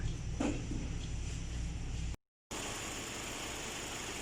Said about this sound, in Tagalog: Umaandar po yung ating makina.